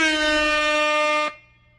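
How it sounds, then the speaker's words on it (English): An air horn sound effect blares in one loud, sustained, brassy blast of about a second and a quarter, then cuts off abruptly into near silence. "Got to get the air horn out for that one"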